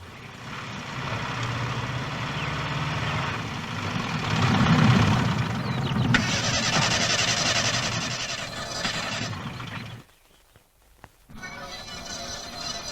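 A car engine sputters and struggles to start on a dead battery, cranking and running roughly before cutting out abruptly into near silence, then a faint rumble returns.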